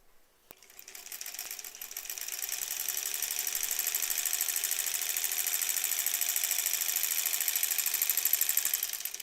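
A sewing machine stitches quilt pieces together, its needle hammering in a fast steady rhythm that builds up after a brief start, close and continuous with no talking.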